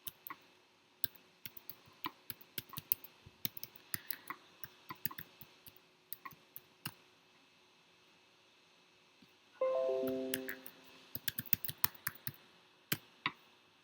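Someone typing a web address on a computer keyboard at a Windows machine, producing sparse, crisp key clicks in short irregular runs, close and quiet, with a brief buzzy tonal sound partway through.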